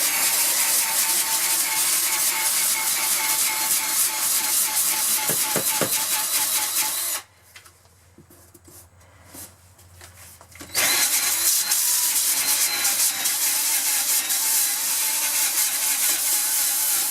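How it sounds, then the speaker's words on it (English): A power sander grinds loudly against the interior walls of a 1974 Silver Streak trailer during renovation, running continuously up close, cutting out for a few seconds of near quiet, then starting up again. "A regular sander would probably be easier."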